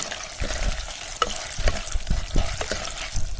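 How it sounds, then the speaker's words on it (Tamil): Dried turkey berries frying in hot oil, a close, steady crackling sizzle with scattered pops and stirring scrapes. "சுண்டக்காய் இந்த மாதிரி நல்லா பொரிஞ்சு செவந்து வரணும்."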